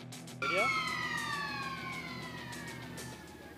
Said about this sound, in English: But the sirens have gone off.